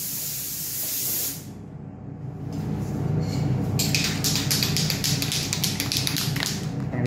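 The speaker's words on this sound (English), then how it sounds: "I'm just going to use an aerosol plastic primer" Aerosol plastic primer hisses from a spray can onto a repaired Yamaha TZR250 3MA motorcycle fairing: a short burst, a pause, then a long, loud, close spray that pulses slightly as it continues.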